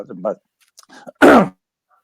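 A single harsh cough bursts out after some brief speech, loud and close, lasting about a quarter second before silence.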